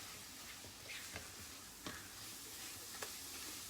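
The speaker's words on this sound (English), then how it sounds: "you want to mix those spices through and let them sort of fry off" Butter chicken spices fry in a pan with a soft, steady sizzle. A few sharp clicks and scrapes of stirring stand out, and the whole sound stays faint and close.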